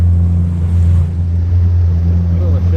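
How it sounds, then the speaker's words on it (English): A jet ski with an extended rear deck cruises through shallow water, its engine humming in a loud, steady low drone under wind and water noise. "It's quite interesting just cruising along like this in the shallows and watching the side scan."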